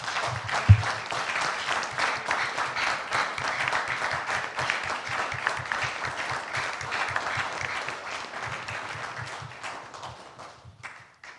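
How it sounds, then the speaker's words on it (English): Sustained applause from a seated audience at a company's annual general meeting, steady and full for about eleven seconds before thinning toward the end, with a brief louder thump near the start. "I would like us to give him a resounding round of applause, please."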